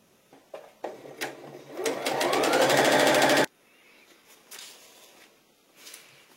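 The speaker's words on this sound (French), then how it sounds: "on va coudre tout au long de cette ligne" A sewing machine stitches a long straight seam along a jacket's back pleat line, a loud steady mechanical whirr lasting a few seconds after some brief handling clicks, then stopping abruptly, with quieter fabric handling afterward.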